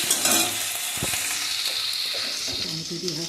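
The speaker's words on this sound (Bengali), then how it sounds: "এবার একটু আদাকে ভাজতে হবে" Ginger sizzles loudly in hot oil close up, with stirring clicks, and a voice talking briefly toward the end.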